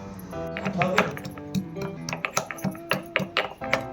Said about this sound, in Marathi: आता लसूण कुटून घेऊ